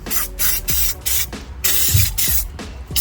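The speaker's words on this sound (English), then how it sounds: "And just some brake cleaner." Brake cleaner hisses out of an aerosol can onto front brakes in about five sharp bursts with short gaps between them, loud and close, with no talking.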